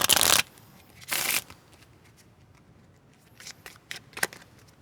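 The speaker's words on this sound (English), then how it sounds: "Come on, go." Playing cards handled during a magic trick, two bright bursts of riffle shuffling at the start followed by quieter scattered card flicks and snaps, heard close with no talking.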